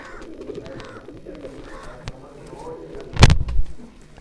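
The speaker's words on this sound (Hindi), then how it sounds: "ये मेन कबूतर है जो टाइगर नस्ल का, जो मेन उनका दादा है जो पट्ठा उड़ा है।" Tiger-breed pigeons kept by a fancier give soft cooing calls amid background noise and occasional clicks, ending in a loud burst of wing flapping or handling.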